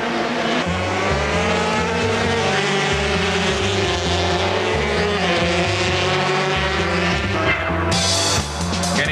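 Superbikes race at Donington Park in a 2000 British Superbike support race, a loud, continuous, high-revving engine scream rising and falling through gear changes as machines pass close by.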